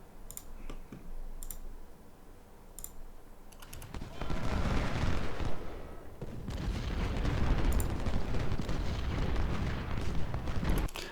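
Massed infantry rifle fire from a large division in the Ultimate General: Civil War game at the Battle of Chickamauga: a few scattered clicks, then from about four seconds a dense, continuous crackle of volleys and booms that swells and holds.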